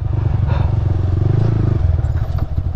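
A motorbike engine putters loudly and close in a steady rhythmic throb as the rider crosses toward a bridge in a remote Himalayan village, with rattling and clatter over the engine.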